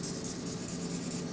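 A thick-tipped marker pen squeaks and rubs across paper in a rhythmic series of close strokes, steady and fairly quiet, with no voices.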